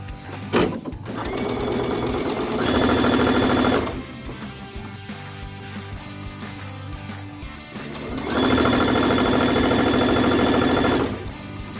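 A sewing machine chain-pieces quilt pieces in two loud, steady bursts of rapid stitching, each a few seconds long, separated by a quieter pause with faint handling noise.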